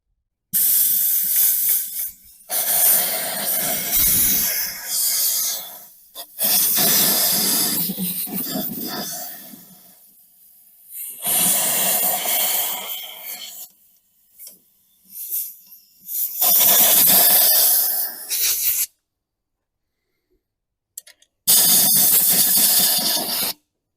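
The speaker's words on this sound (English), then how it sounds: "now I'm gonna get the air hose and blow this out the best I can." Compressed air from a hose blasting over the outside of a tiller carburetor, loud broadband hissing in several long bursts of a few seconds each, separated by brief pauses and short silences.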